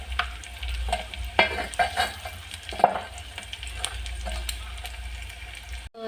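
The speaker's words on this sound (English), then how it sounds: "So I'll let the onions cook for a while before putting the garlic and ginger." Onions fry in a pan with a steady close sizzle while a utensil stirs and scrapes them now and then.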